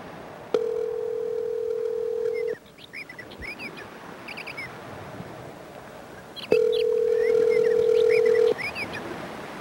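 A phone call rings out twice as a steady two-second tone, separated by a pause, with birds chirping faintly in the background throughout.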